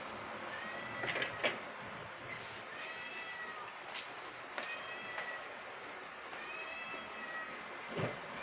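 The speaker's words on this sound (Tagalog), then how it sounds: "Maingay ka naman na pusa ka." A cat meows repeatedly at irregular intervals, fairly close, over a steady background hum.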